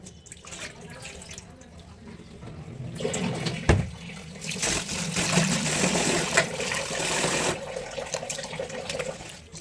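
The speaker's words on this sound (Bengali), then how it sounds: "ধুয়ে নিচ্ছি দেখুন আমি চালটা ভালোভাবে জল ঝরিয়ে পরিষ্কার করে ধুয়ে নিচ্ছি" Rice grains are rinsed in water, with continuous splashing, sloshing and trickling close by and a few sharper knocks as the water is swirled and drained.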